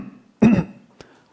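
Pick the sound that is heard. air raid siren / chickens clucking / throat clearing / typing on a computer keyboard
throat clearing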